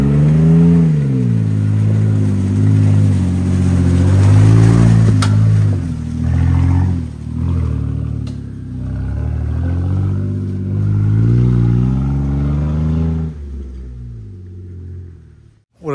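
An off-road vehicle at Windrock Park climbs a steep rocky trail under heavy throttle, its engine droning loudly with rising and falling revs over about thirteen seconds before the sound cuts away abruptly.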